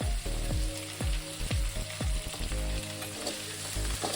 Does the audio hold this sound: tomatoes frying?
yes